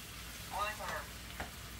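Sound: meat being stir-fried

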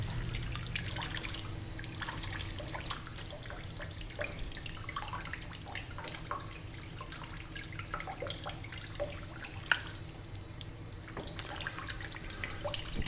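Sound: platinum print being washed in running water

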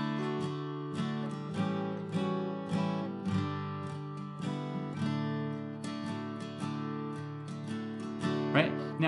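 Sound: guitar playing intro arrangement of a song

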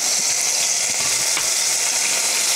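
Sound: okra frying in oil

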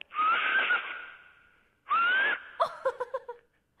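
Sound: whistled imitation of a horse

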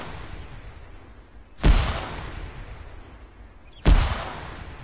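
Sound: mortar fire in the video game Arma 3

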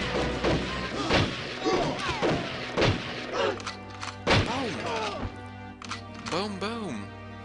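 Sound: shotgun firing in the video game GoldenEye

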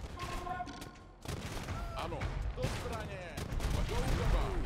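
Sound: gunfire from Age of Empires II video game

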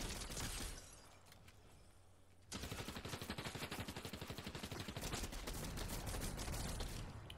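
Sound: shotgun gunfire in a video game

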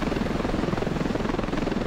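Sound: helicopter flying in video game Ravenfield

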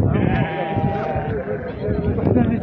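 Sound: sheep bleating at a livestock market

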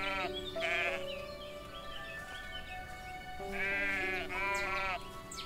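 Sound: sheep bleating in video game Everdream Valley

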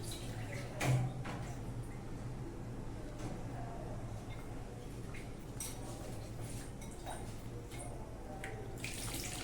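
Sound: pouring water into tamarind curry pan

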